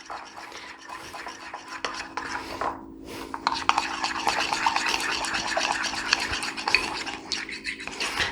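A utensil stirs blueberry cake batter in a bowl until smooth, giving a continuous scraping, swishing rhythm that stays close and fairly loud, with a brief pause partway through.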